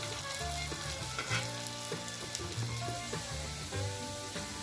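Onions fry in a pan with a continuous soft sizzling hiss, heard at low level under steady tonal background music.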